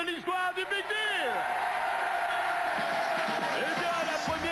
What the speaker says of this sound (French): je voudrais un tonnerre d'applaudissements pour les 2 derniers candidats de l'histoire du Big Deal